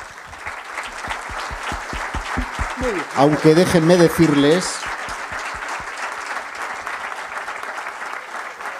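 Loud applause at a UFO congress farewell, clapping steady throughout while someone speaks over it in Spanish, his voice briefly rising above the crowd midway.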